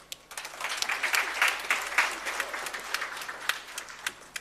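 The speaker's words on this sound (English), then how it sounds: "round of applause again, Dr. Svopeta and Dr. Chikolomo from Limpopo" An audience applauds steadily, a dense crackle of many hands clapping at once, fading in and holding without voices over it.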